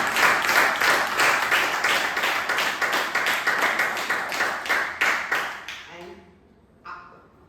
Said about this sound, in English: let's give a thunderous applause to you